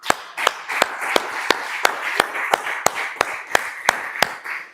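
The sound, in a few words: applause for Jesus in a church service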